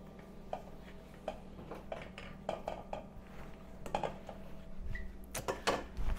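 Light clinks and taps of utensils and cookware as dessert gnocchi are strained at the stove and tossed into cinnamon butter, scattered and fairly quiet, with a slightly louder clatter toward the end.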